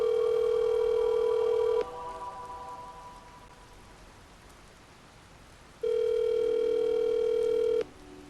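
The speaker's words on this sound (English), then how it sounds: "Let me call Janelle right now" A telephone tone sounds on speakerphone while a call is placed, two steady electronic beeps about two seconds each separated by a few seconds of quiet hiss, clear and close.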